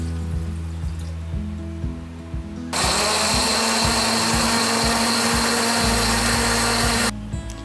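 A blender roars into a loud, steady whir for several seconds blending a sauce mixture with water, then cuts off abruptly, with a low hum beneath it throughout.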